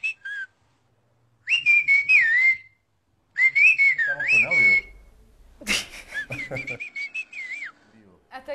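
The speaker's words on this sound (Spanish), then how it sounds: "puedo hacer un chiflido hacia mi primo que se encuentra allá afuera" A person outdoors whistles loud, sliding melodic calls, a whistled-language signal to a cousin out of sight, in several bursts separated by pauses; a voice speaks briefly between the whistles.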